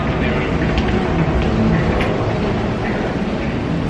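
Riding a tram from the Aria toward the Crystals in Las Vegas, a steady loud rumble and rolling clatter fill the cabin throughout, with people's voices faint underneath.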